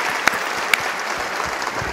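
At a music awards gala, the audience claps steadily, a dense, moderate-level applause with two sharper accents near the start.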